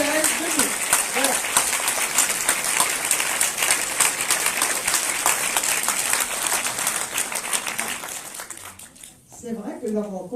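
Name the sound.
audience applause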